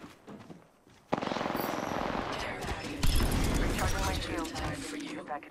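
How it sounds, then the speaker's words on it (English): Sustained automatic gunfire in the video game Apex Legends, a dense rattling burst that kicks in after a quieter opening and intensifies midway, loud and continuous with mechanical clatter beneath. "I'm spotted. Taking fire."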